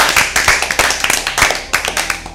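Audience applause for team A at an Easter Bible quiz, a burst of many hands clapping, loud and close, lasting a couple of seconds.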